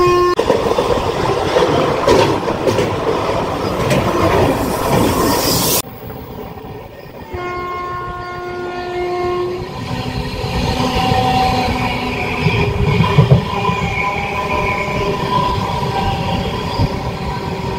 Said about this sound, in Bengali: আমাদের ট্রেন ক্রস করছে আমবাড়ি ফালাকাটা স্টেশন